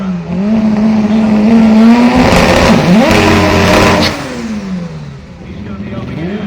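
Front-wheel drive drag race cars, probably Hondas, roar past at a race final, engines revving high and climbing in pitch with a loud close pass, under an announcer's voice talking over the action.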